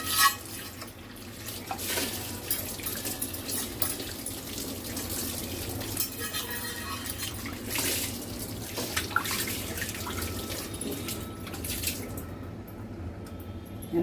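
Running tap water splashes steadily over a new cast iron appe pan as it is rinsed in a sink, a continuous close wash with small drips and clatter and no talking.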